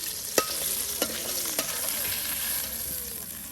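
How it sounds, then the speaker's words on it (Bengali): Hilsa fish fry in oil, producing a steady close sizzle broken by three sharp knocks of a spatula or ladle against the pan as the pieces are stirred and lifted out. "এরপরে আরো কিছু মাছ ভেজে নেওয়া হবে।"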